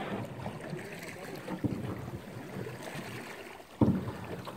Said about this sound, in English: Got to get back to paddling.